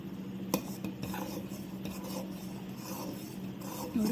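Jowar gatka mixture stirred with salt in a pot, a steady scraping and rubbing of a spoon against the vessel with a few sharper knocks, close and moderately loud, with no talking.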